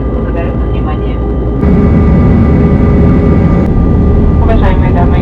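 Steady low roar of a CRJ200 airliner cabin during descent before landing, a broad constant engine and airflow drone with a step up in loudness partway through, and a voice speaking over it.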